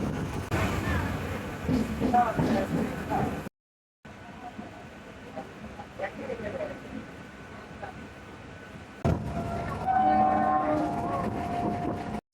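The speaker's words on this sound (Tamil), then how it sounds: "இந்த வண்டி மெமோன்னு சொல்லுவாங்க, காரணம் main line electric multiple unit." A MEMU electric multiple unit train pulling out of Salem Junction, with a steady rumble and rolling wheel noise that breaks off briefly, then returns louder with a tonal horn-like note near the end.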